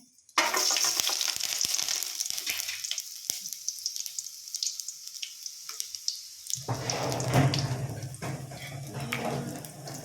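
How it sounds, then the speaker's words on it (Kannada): Garlic hits hot oil in a pan with a sudden loud sizzle that settles into steady crackling frying, swelling again near the end as the contents are stirred; no voices are heard. "ಬಣ್ಣಲೆಗೆ ಇದಕ್ಕೆ ಬೆಳ್ಳುಳ್ಳಿ ಪಾಡುವೆ"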